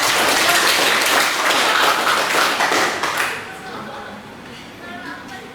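Enthusiastic applause and clapping from a school class fill the first three seconds, loud and dense, then fade into scattered claps and children's chatter.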